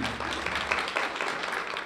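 Audience at a domestic violence awareness event applauding after a song, a dense, steady patter of many hands clapping close and loud for a couple of seconds.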